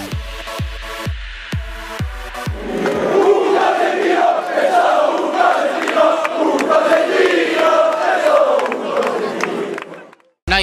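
Football fans at a team presentation in Catanzaro: rhythmic clapping beats open, then a big crowd roars and chants loudly for several seconds before the noise cuts off abruptly.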